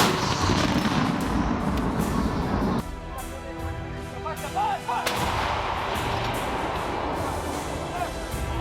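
A new 9,300-pound 155mm howitzer fires on a test range, booming blasts with a rumbling roll filling the clip, a brief quieter lull midway, and voices calling out around it.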